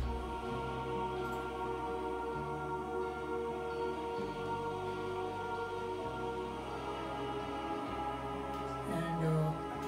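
Dark, sustained horror-style synth pads for a dubstep track, layered with a steady low bass that shifts pitch every couple of seconds, loud and continuous with no talking.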